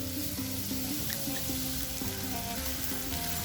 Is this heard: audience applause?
no